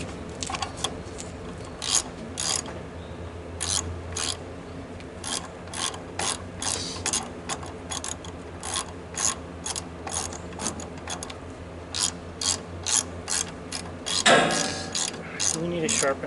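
Repeated ratchet clicks from a strap being tightened on a Woodmizer LT15 sawmill while cutting 2x4s from a large white pine, a steady run of sharp metallic pawl bursts, close and fairly loud, with one denser stretch near the end.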